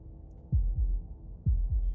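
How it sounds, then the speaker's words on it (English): A deep heartbeat from the game Slay the Princess thumps in low, throbbing double beats, two lub-dub pairs close and alone over a faint hum. "That was the sound of a heartbeat, followed by another, and another."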